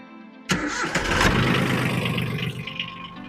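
A Yanmar F155 4x4 mini tractor with 959 hours on the meter cranks and catches abruptly, then settles into a steady, loud, close-up running rumble with no talking.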